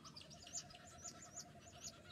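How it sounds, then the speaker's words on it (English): Birds call at dawn in a quiet outdoor setting, with repeated soft chirps and tweets recurring about every half second, faint and somewhat distant over a low steady background hiss. "of the sounds of the birds as they awaken"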